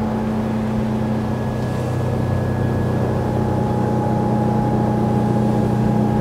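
A 2023 Sea Ray SDX 290 boat carving turns at about 55 km/h, its engine a steady, loud drone with a constant hum and water rush throughout, no voices.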